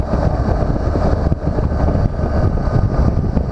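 A BMW R1200GS motorcycle at speed on a freeway gives a steady, loud roar of wind buffeting and road and engine noise, continuous throughout without a break.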